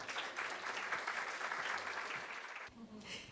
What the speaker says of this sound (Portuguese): uma salva de palmas aí para a Janaína.